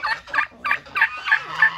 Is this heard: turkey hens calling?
yes